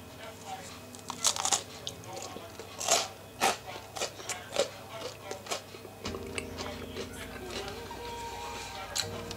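Someone bites into crispy-topped hemp seed focaccia with onion and chews, a run of distinct crunches close to the microphone that fade into quieter chewing.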